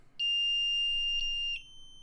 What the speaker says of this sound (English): so it's beeping and it's not stopping